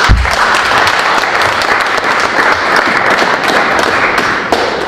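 Loud, dense applause from a large crowd at a panel forum, continuous clapping close by that fills the whole stretch without pause.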